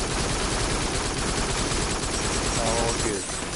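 Rapid, dense gunfire roars continuously in the VR shooter Farpoint, a loud, steady stream of shots with no speech over it.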